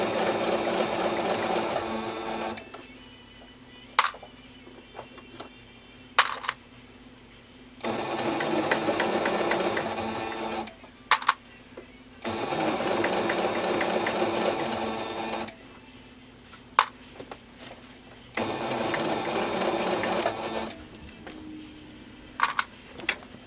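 A sewing machine stitches a satchel handbag in several bursts of steady, close whirring, with pauses between runs where the fabric is turned at the corners and brief clicks sound.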